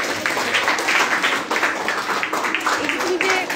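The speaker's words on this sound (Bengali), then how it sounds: "হাততালি।" Applause from a group in a classroom or school assessment session, steady dense clapping lasting throughout, fairly loud and close, with some voices mixed in.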